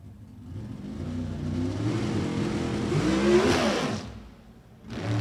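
A drag racing car sits at the starting line with its engine revving hard, the roar climbing steadily for several seconds, dropping off, then surging again; loud and close, with no talk.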